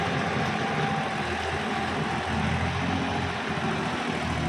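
A small three-cylinder tractor engine runs at a steady, continuous drone, close and even throughout with no talking.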